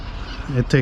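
Parrots let out a couple of short, harsh squawks near the end, rising out of a steady low background hum.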